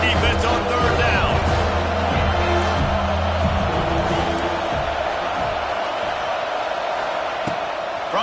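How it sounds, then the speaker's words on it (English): Football stadium crowd roaring during a third-down defensive stand, a dense, loud, steady wall of cheering that swells and holds throughout, with a broadcast commentator talking over it. "Decibels rising as the crowd gets behind this defense on third down."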